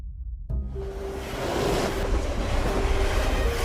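A train rumbles in an anime train scene, a steady loud roar of rolling wheels and rushing air that starts abruptly after a brief quiet moment and continues unbroken, with a faint tonal whine running through it.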